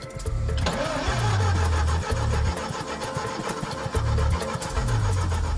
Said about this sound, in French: il va falloir le démarrer le moteur, histoire de voir s'il n'est pas HS